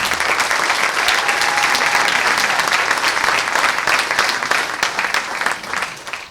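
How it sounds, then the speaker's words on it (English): A large audience at an apprenticeship signing and graduation ceremony applauding 18 new apprentices, loud dense clapping held steady before tapering off near the end. "let's give them a round of applause"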